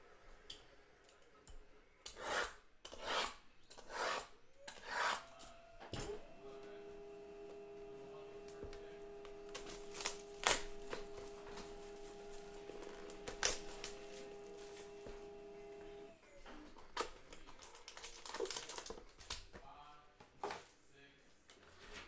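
A printer hums steadily through the middle while football trading card packs from a 2019 Panini Playbook box break are handled and torn open, with scattered crinkling, clicks and rustles up close under quiet background noise.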